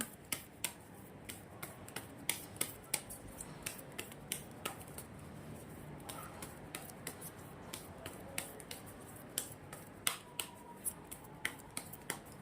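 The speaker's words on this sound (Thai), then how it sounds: "สับไพ่นานนิดนึงนะคะ" Tarot cards shuffled by hand in steady, crisp riffling snaps that repeat through the whole stretch at close range, with no talking over them.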